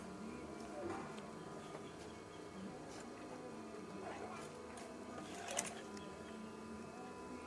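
A sewing machine stitches a wavy-pleat curtain, a soft steady mechanical whirr running underneath with a few sharp clicks and taps from handling the fabric.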